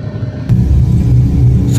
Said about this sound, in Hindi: गाइस अभी जो हमारी गाड़ी है यार वो ग्रेटर नोएडा एक्सप्रेस वे पे चल रही है